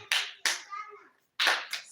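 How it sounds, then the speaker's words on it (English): A few people clap in sharp, scattered bursts, two quick claps, a pause, then two more, close by, with a brief voice heard between them. "You're clapping like villagers."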